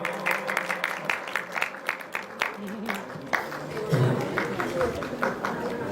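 Audience clapping after a musical performance at a medical seminar, a run of distinct, fairly brisk claps that turns into a denser burst, mixed with voices.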